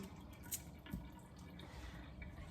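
Water running and dripping in a kitchen sink while eggs are rinsed, a steady wet trickle with a couple of small splashes and taps, close by.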